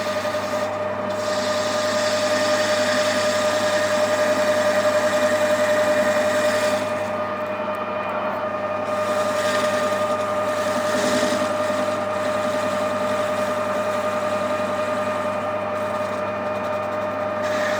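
A flat top piston for an A-Series engine spins in a lathe while a cutting tool takes a steady, continuous scraping rasp across it over the machine's constant hum, with a brief shift in tone partway through and no talk.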